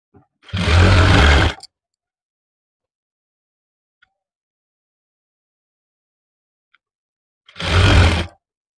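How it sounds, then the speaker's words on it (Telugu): A sewing machine stitches a seam on a cotton summer frock in two loud close bursts about a second long each, separated by several seconds of silence. "చూడండి, వన్ సైడ్ నుంచి మనం స్టిచ్ చేసుకొని రావాలి."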